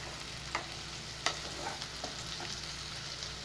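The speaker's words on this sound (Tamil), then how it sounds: "வெங்காயம் கருவேப்பிலை நல்லா வதங்கணும்" Onion and curry leaves sauté gently in a pan for appalam kootu, a soft, steady low-level sizzle with a few light spoon taps.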